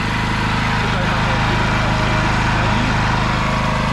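A Hyundai HG2201 petrol power generator engine runs steadily at a constant idle-like drone, moderately loud and close, with no change in pace throughout.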